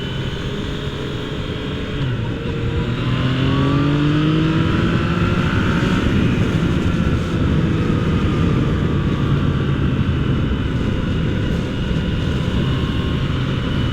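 A Yamaha FZ-09 motorcycle engine drones steadily and loudly throughout, with rising and falling pitch sweeps as the rider accelerates and eases off, wind and road noise mixed in, no talk.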